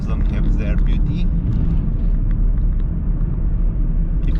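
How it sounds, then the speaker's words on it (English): Car driving along county roads in southern Romania between Mihăilești and Pitești, with a steady loud low engine and road rumble filling the whole stretch without a break. "you also hear the sounds of the car"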